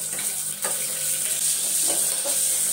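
Spices for shengole tempering sizzle steadily in hot oil, a continuous close frying hiss with a few soft stirring scrapes and no talking.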